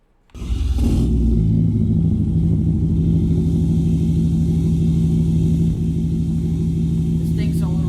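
A show truck engine fires up in Farming Simulator 25 after a short quiet moment, then settles into a loud, deep, throbbing idle rumble that continues steadily to the end.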